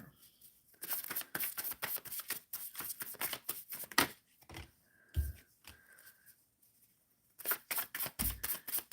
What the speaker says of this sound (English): Shuffling for Rezia.